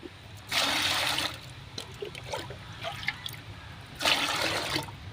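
Fermented rice water splashes into a half-liter cup in two separate pours, each a bright, close gush lasting under a second, with quiet dripping and handling noises between them.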